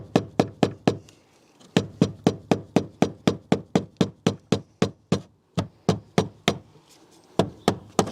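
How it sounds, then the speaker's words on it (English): Fuel pump securing ring on a BMW E46 3 Series being tapped round: about thirty sharp, evenly spaced knocks in quick runs, separated by brief pauses, close and crisp in a quiet space. "We're just going to tap the securing ring round."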